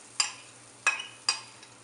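Pancake batter hitting a hot pan, three short splattering sizzle bursts over a quiet, steady background hum, with no talking.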